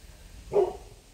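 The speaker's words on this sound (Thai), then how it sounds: "โอ้เห่าใครล่ะ โอ้เห่านั้นเหรอลูก" A single short, faint dog bark sounds from a distance outdoors, alone against a quiet background hiss.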